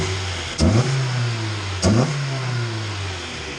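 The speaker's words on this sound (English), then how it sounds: "So I am test driving this Integra right now to kind of see what's going on with it" A Honda Integra engine during a test drive, revving up twice in quick bursts with audible gear changes between steady cruising drone, heard from inside the car.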